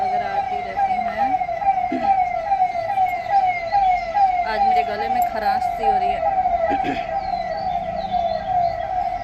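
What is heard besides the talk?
ambulance siren passing on the road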